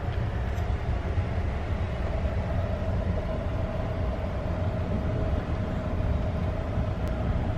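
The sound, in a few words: Amtrak passenger train moving slowly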